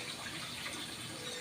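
Water pours steadily into a cooking pot for a dish of zucchini with sotanghon and mackerel, a close, continuous hiss with no talk.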